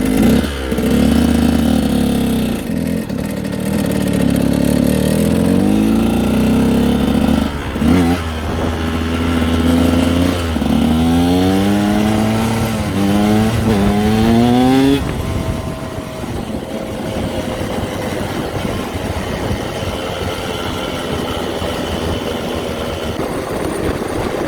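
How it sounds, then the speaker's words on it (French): A KTM 125 SX two-stroke motocross bike starts and revs hard close by, with rising and falling throttle blips that stop midway, leaving only a quieter rumble. "pour vous montrer un peu comment la moto marche, je vais vous faire la vidéo ici"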